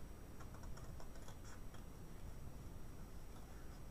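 Scissors fussy cutting around stamped shapes on paper during a cardmaking demonstration, giving faint, quick, irregular snips and ticks close by with no talk.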